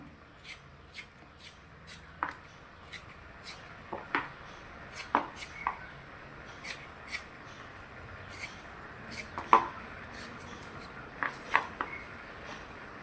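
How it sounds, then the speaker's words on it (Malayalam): Knife slicing bitter gourd thinly lengthwise, a series of crisp, regular cutting taps on a board, close and fairly quiet, with no talking. "ഇതേപോലെ കനം കുറച്ച് നീളത്തിൽ അരിഞ്ഞെടുക്കാം"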